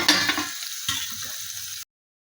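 A spoon scrapes and stirs kankoda (spiny gourd) vegetable in a hot pan, with a couple of quick close stirring strokes over a steady soft sizzle. The sound cuts off abruptly after about two seconds.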